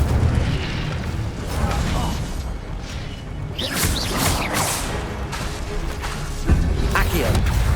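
Spell effects in Hogwarts Legacy, Incendio and Accio cast in quick succession, with bursts of fiery whooshes, pops and rumbling booms over continuous combat noise while a voice calls out spell names.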